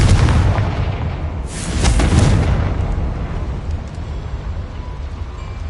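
A Confringo blasting spell explodes in Hogwarts Legacy, a loud booming blast with a swelling burst midway and a heavy rumbling low end throughout.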